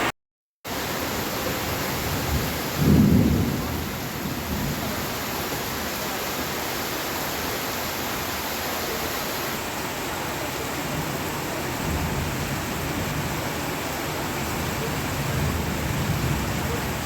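Steady, loud rain from a thunderstorm with lightning pours without pause, and a single brief low rumble of thunder rises near the start.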